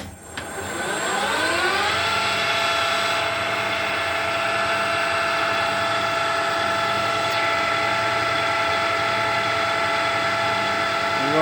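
A Colchester lathe spins up to 800 RPM while machining a motorcycle front axle, a steady tonal motor hum with a rising whine at the start that settles into a constant drone, loud and close throughout.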